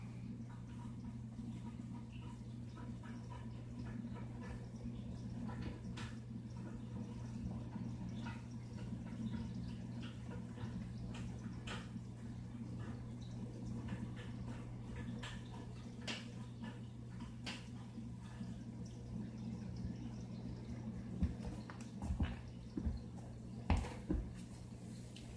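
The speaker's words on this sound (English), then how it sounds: "That much more water came out of the display tank into the sump." Water from a reef aquarium display tank spilling through a freshly scrubbed overflow weir into the sump below, a steady low trickling and gurgling flow with scattered drips, close and moderately quiet, with no talking.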